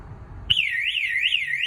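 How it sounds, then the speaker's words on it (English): The panic-button alarm on a 2016 Elddis Affinity 550 caravan kicks in suddenly with a loud, piercing electronic warble that rises and falls in a repeating siren-like sweep, sounding close and continuous. "the alarm will be sounded."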